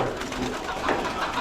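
Pigeons kept by a breeder coo close by in a low, steady murmur, with no pauses and no talking.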